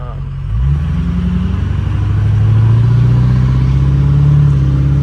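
A 6.0 Powerstroke diesel engine idles then revs up at light quarter throttle, a deep loud close rumble rising and holding steady with a faint clattery diesel texture, a voice speaking over it.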